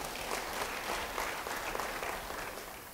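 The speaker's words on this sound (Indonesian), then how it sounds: "Yang setuju, beri tepuk tangan bagi dia." A church congregation applauds together during a sermon, a steady, dense wash of many hands clapping at moderate distance that holds for the full stretch without any voices breaking through.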